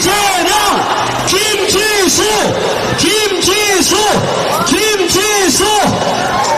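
A political rally crowd roars and chants in loud, rhythmic waves, bursts of shouting voices swelling and falling at a steady pace with massed yelling throughout.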